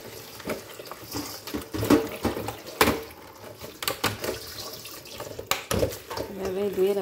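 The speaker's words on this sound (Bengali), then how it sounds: "এগুলো ধুয়ে আবার রাখতে হবে।" Greens and strawberries rinsed under a running kitchen tap, a close, moderately quiet rush of water with splashing and handling noises, while someone talks over it.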